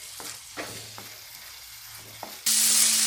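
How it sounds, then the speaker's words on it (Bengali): Spice masala with two green chillies frying in a pan for Bengali chitol fish muitha: short scraping stirs over a low sizzle, then a louder, steady hiss near the end. "মশলাটাকে এখন ভালো করে ভাজবো"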